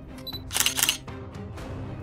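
A camera shutter fires in quick succession, taking a series of photos. Several sharp mechanical clicks sound close up, bunched together in under a second, over quiet room noise.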